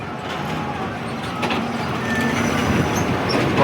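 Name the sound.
Sealdah Kanchenjunga Express train passing on Farakka bridge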